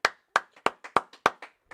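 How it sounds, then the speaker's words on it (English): Congregation at a Sabbath service clapping hands in a steady rhythm, about eight sharp claps in under two seconds, alternating louder and softer beats, close and clear with no talking. "go ahead, clap it up."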